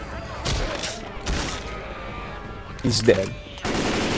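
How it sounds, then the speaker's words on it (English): Rapid automatic gunfire in Left 4 Dead 2 comes in sharp bursts, with a short pause before a heavier volley, while players talk over the shooting. "Hey, keep shooting."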